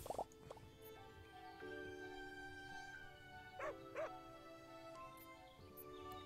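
A dog in the farming game Everdream Valley gives a few short barks and yips in two quick bursts midway through, over a steady game music bed.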